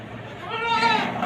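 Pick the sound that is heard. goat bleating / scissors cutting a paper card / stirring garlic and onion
goat bleating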